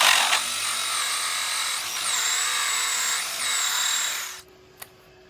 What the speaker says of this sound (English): Drill it from the other side and get ourselves a nice clean hole from both sides.